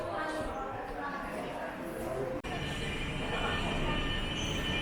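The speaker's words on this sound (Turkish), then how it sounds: "Ve metromuz geldi" A metro train in Chongqing, China, rumbles and rolls into a station, with wheel and rail noise filling the space and a brief sharp dropout midway; steady, loud mechanical roar throughout.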